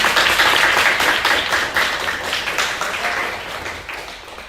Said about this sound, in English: Also, round of applause to.